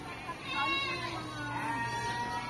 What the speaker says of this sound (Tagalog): May hawak ng kambing si ma'am.